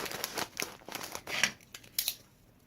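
Small scissors click, snip and rustle against cellophane and basket items in a gift basket, a few quick, close, faint crinkles and taps.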